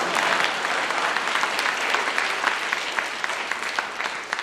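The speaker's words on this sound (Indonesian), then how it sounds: "Tepuk tangan untuk Tom Rembo Community" Audience applause for the Tom Rembo Community at a leadership seminar, a dense, steady wash of many hands clapping close and loud, with scattered sharper claps and no talking.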